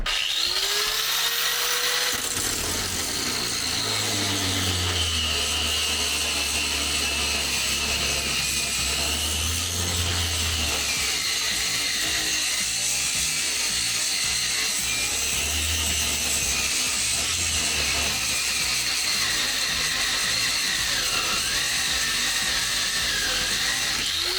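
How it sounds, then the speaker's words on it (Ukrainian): Expert angle grinder from Epicentr sanding a surface, a steady loud whine running continuously throughout with a low motor hum underneath and no talk. "Зараз попробуємо ще пошліфувати."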